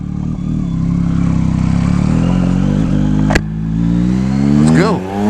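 A 2023 Yamaha MT-09 SP motorcycle engine runs loud and close, revving with rising pitch sweeps and a sharp clack near the middle, with brief talk over it.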